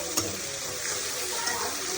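Meat sizzles steadily in a pan with ginger, garlic, chili powder and nut paste, a continuous loud frying hiss with occasional stirring clicks, heard alone without talking.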